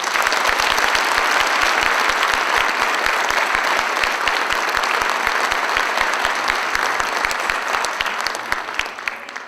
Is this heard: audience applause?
yes